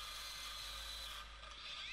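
A Lidl PWSAP 40-Li A1 XXL cordless angle grinder grinds a workpiece under heavy pressure with a harsh, steady, high-pitched rasping whine, its tone dipping slightly toward the end.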